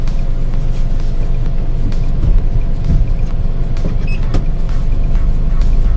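Inside a 2014 Datsun GO+ Panca as it starts to drive off, a loud steady engine and road rumble fills the cabin, with small knocks and clicks scattered through.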